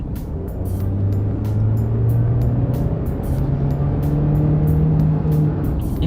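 Engine of a 2024 BAIC X55 Verve crossover in sport mode cruising on an expressway: a loud, steady drone from inside the cabin whose pitch climbs gradually as the car pulls, with road noise underneath and no talking.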